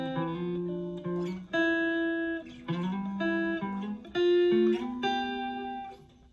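Electric guitar plays a short melodic walk-up lead-in to a solo, single notes and bends in a steady phrase, clean and close with no talk.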